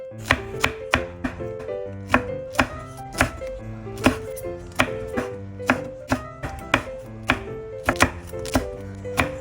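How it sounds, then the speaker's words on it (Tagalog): A knife slicing chili peppers on a cutting board, sharp evenly spaced chops, close and crisp, a steady rhythm of roughly two cuts per second with nothing else in the background. "Hinugasan ko na nga yung sili para ready na nga natin hiwain."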